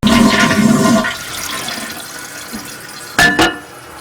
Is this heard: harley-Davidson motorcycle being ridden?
no